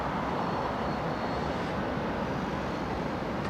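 An Etihad Airbus A380 landing at Heathrow, its thrust reversers engaged, makes a dense, unbroken broadband roar that stays loud and steady from start to finish without any talking.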